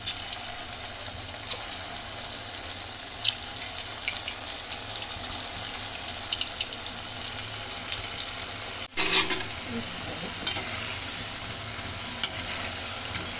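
Small pinched balls of paal paniyaram dough fry in hot oil, a continuous bright sizzle with crackling bursts and a brief clatter partway through, with no voices.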